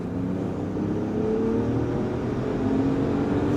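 A 2025 RAM 1500 Tungsten pickup truck accelerating hard from rolling speed, with a steady, loud engine roar and rising drone heard from inside the cabin throughout.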